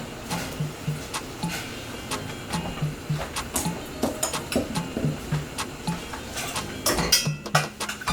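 Rapini dropped into a pot for blanching, giving scattered clinks and soft knocks of greens and utensils against metal, with a steady low hum of the stove underneath.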